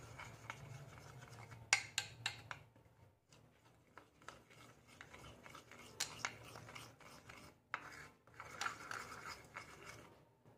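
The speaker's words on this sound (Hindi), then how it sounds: "अब मैं कर लूँगा इन सब चीज़ों को अच्छे से मिक्स" A gram flour face pack is mixed with milk in a small bowl, giving faint, close scraping and rubbing strokes in irregular bursts separated by brief pauses.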